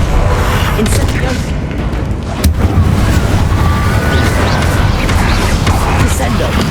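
A fire spell blasting in the video game Hogwarts Legacy, heard as a dense, loud, continuous roar of booming combat noise lasting several seconds, with one sharper burst midway.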